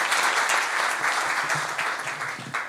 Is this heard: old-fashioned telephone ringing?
no